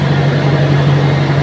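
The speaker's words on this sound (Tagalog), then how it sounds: "So papatunayan ko na cold start siya." A Toyota Innova engine runs at idle just after a cold start, a loud, steady low hum with a constant droning tone and no speech.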